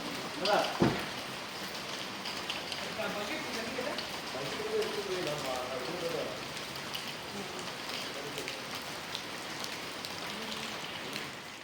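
Steady monsoon rain falls throughout on a ride through Aarey Colony, a continuous dense hiss with scattered drips, while a person talks under it.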